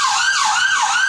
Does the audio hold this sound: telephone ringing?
no